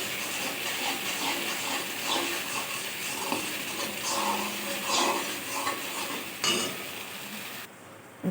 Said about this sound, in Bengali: তেলটা খুব সুন্দর ছেড়ে দিয়েছে মশলাটা আরও একটু দুই তিন মিনিট কষিয়ে নেব এটাকে সুন্দর করে